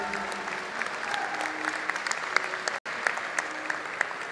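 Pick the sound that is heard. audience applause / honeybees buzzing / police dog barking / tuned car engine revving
audience applause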